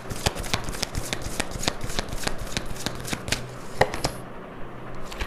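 Oracle cards are shuffled by hand in a quick run of sharp riffling snaps, close and steady, ending in a final few slaps as the deck settles.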